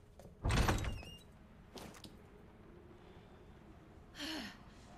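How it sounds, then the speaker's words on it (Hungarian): A character in Resident Evil 2 bumps into a door, giving a loud thud at the start and a lighter knock a moment later, then a short rustle over faint background noise. "Ennek ez a szokása, hogy így neki megy az ajtónak."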